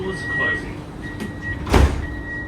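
Parramatta L4 light rail tram doors slide shut with one firm thud near the middle, set against a steady electronic tone and cabin hum, with a voice announcement running through it.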